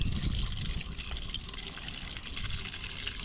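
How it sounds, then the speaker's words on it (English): Running water rinses a hand close by, a steady splashing trickle with no voices over it. "Actually, kind of want to rinse my hand off first."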